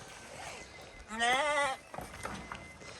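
A sheep on a farm lets out one clear wavering bleat partway through, moderately close, amid quiet outdoor background noise and faint shuffling.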